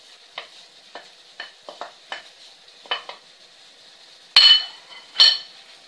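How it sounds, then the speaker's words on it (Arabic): Onion going into frying kebab meat, heard as a faint steady sizzle under a series of spoon scrapes and stirring taps, then two louder clanks against the pot. "غادي نخليوه يتقلى واحد شويه، وغادي نضيفوا ليه البصله"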